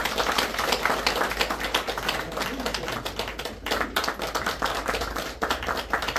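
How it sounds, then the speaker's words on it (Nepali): An audience at an award and scholarship presentation ceremony claps steadily and loudly throughout, a dense roomful of hands applauding together. "ताली बजाएर सम्मान गरिदिनु हुन।"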